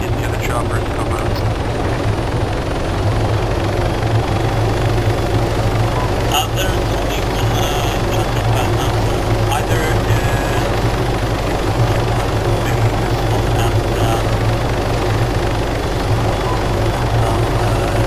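Steady, loud helicopter engine and rotor drone in a video game, continuous and close throughout with no breaks.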